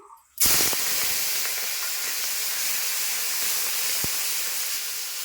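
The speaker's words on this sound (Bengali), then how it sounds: "তেল গরম হয়ে গেছে, আমি চিংড়ি শুটকি ভাজছি।" Dried shrimp hit hot oil in a pan with a sudden loud sizzle that settles into a steady, continuous hiss, briefly preceded by quieter kitchen sounds.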